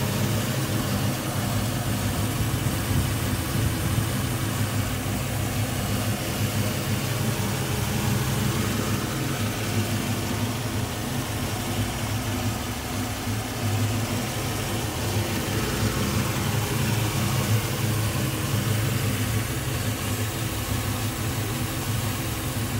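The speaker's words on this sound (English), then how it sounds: "let's get that engine started" A 1962 Buick Special Wagon engine idles steadily with a low, rumbling drone that holds an even level throughout, close by and without any voices.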